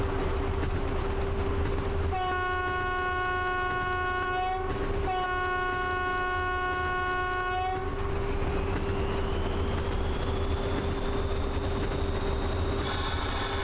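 A locomotive in the video game Train Driver 2 runs steadily along the track with a constant engine drone, and two long multi-tone horn blasts sound one after another before a rising whine takes over.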